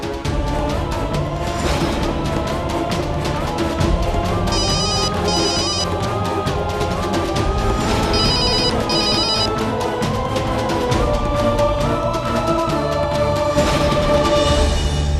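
A telephone rings in repeated electronic bursts over loud, dense music and noise that continue throughout.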